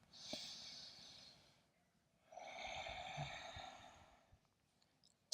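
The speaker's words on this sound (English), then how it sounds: "4 more big belly breaths. In, out." Deep belly breathing during a yoga class, one long airy exhale followed by a slow, breathy inhale-exhale, close and soft with no talking.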